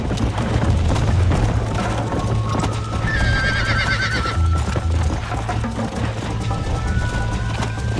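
Horse hooves clip-clop at a gallop throughout a Red Dead Redemption race, with a loud neigh rising midway, dense and continuous game audio.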